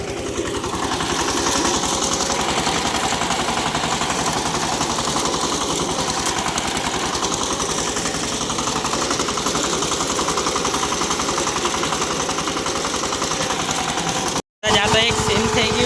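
A tractor stuck in a ploughed field strains with a loud, continuous pulsing engine throb as its tyres slip, holding steady for about fifteen seconds with a brief cutout near the end.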